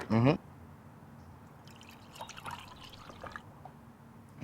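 Water is poured into a measuring container to fill it to the 20 millilitre line for a kids' lava lamp experiment. A faint, soft trickle sits between quiet moments, with a brief voice at the start.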